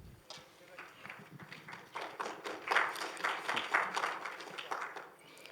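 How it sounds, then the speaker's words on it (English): An audience breaks into applause that swells and holds as a dense, steady wash of clapping for several seconds. "Let's welcome him to the stage with a huge round of applause"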